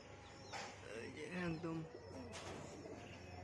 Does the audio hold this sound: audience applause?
no